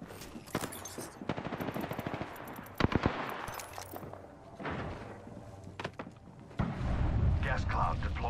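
Video game gunfire in bursts of rapid automatic shots and single cracks, with thuds and other game effects between, under intermittent talk.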